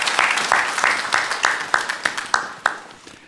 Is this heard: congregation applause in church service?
yes